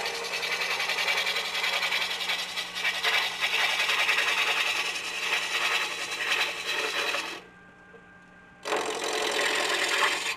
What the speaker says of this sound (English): You always want to listen to your lathe while you're cutting.